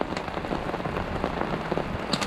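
Steady heavy rain from a November storm at a camp in Washington pours down, a dense constant hiss of drops pattering on surfaces, with no voices.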